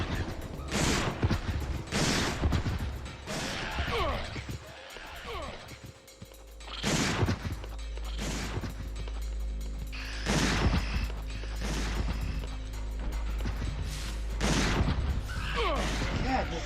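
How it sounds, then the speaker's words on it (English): Gunfire in the video game Dino Crisis 2 rings out as a series of sharp, loud shots spaced a second or two apart, over a low game rumble and mechanical clanks, with someone talking in between. "Get up, I'll just shoot you again."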